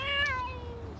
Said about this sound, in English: please will you keep your cats away from the house?